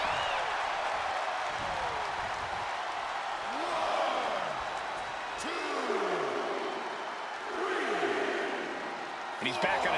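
A capacity crowd in a wrestling arena cheers and roars continuously in a steady, dense wash of noise, with scattered shouts and whistles and a commentator talking over it.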